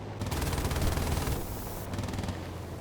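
Rapid cannon fire from an aircraft's nose gun in Battlefield 1942, a dense continuous burst of shots lasting several seconds, loud and up close with no talking.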